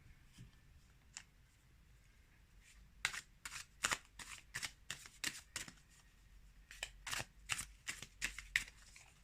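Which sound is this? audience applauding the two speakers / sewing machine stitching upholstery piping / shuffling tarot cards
shuffling tarot cards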